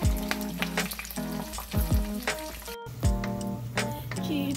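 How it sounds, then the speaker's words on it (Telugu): Cashews, cumin seeds and curry leaves crackle and sizzle in hot oil for a kheema fry, with close, uneven bursts of spattering and sharp clinks of a stirring spoon against the pan. "కాగిన నూనెలో వేయించాలి"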